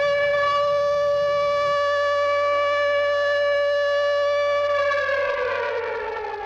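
A loud, sustained rocket warning air raid siren in Israel wails on one steady pitch, then begins to wind down in pitch toward the end.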